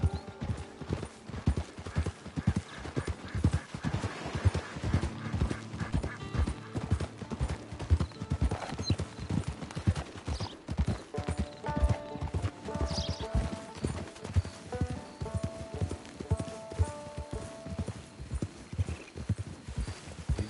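Horse hooves clip-clop in a steady walking rhythm in the video game Red Dead Online, fairly close, with a horse briefly whinnying along the way.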